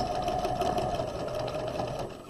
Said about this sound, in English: When we get back around, we'll stitch over our stitches